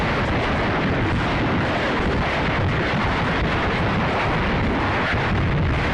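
A massive explosion in Ukraine war footage fills the scene with a dense, continuous low roar and rumble that holds steady and loud throughout, with no voices.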